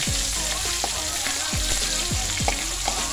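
Beef frying in a pan for ampalaya con carne, a loud, steady close sizzle with light scraping stirs throughout.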